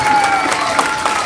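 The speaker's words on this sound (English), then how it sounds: "Give them a big round of applause." A school assembly audience claps for students of the month, a brief burst of steady applause heard close.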